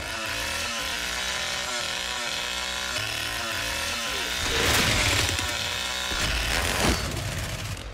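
Leatherface's chainsaw in a video game, running at about 70% heat as an overhead slam flows straight into a swing attack, a steady buzzing saw drone that surges and grinds loudly near the middle over game sound.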